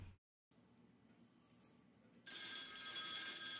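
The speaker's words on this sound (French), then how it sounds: "Ah, téléphone." A telephone in the X-Files video game starts ringing partway through, loud, bright and continuous after a quiet stretch of low background noise; no voices.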